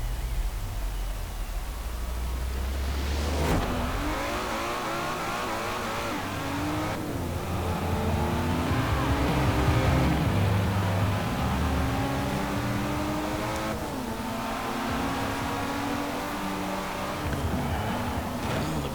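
BMW Forza Edition racing car in Forza Horizon 4, engine revving hard and rising through gears with repeated shifts and climbing whine, loud and continuous under steady road noise.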